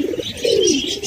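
Pigeons feeding on grain give a soft, close coo, a brief throaty rolling call lasting about a second, with faint chirps around it.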